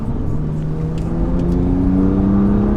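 A 2021 BMW M2 Competition with a six-speed manual accelerates on a track, its engine note climbing steadily and loud from near, with no talk over it.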